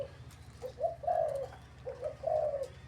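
A young domestic dove, about one week old, coos softly in a few short rhythmic phrases, fairly faint against a low background hum.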